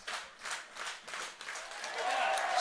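A baseball crowd at a Kitchener at Guelph game cheers and applauds in rolling waves of clapping that build toward the end, with no talk over it.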